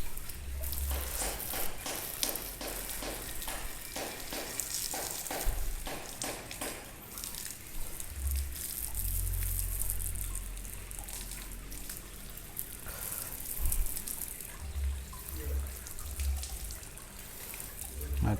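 A water hose rinses a freshly washed bicycle, a steady hiss of spraying water with splashing and trickling, rising and falling as the stream moves, with low thumps and occasional voices in the background.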